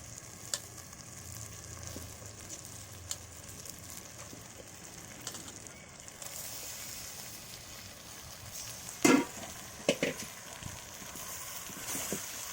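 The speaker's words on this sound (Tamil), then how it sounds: "கறி சேர்த்துட்டு நல்லா மிக்ஸ் பண்ணி வச்சுக்கலாம். கிளறி விட்டுக்கலாம்." Chicken sizzles in an onion and tomato masala in a pan, a steady frying hiss with occasional scraping stirs and a few louder clacks of the spoon against the pan.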